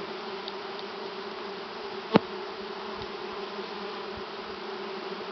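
Honey bees buzzing in a continuous, even drone during a powdered sugar mite treatment on a hive, steady and close with one brief sharp click partway through.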